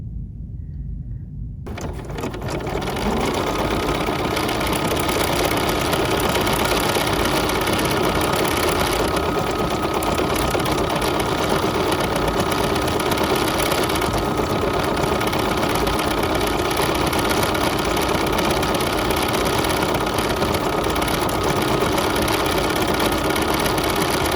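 A BERNINA sewing machine stitches steadily at close range, its loud continuous whir starting after a moment of quiet and running unbroken to the end.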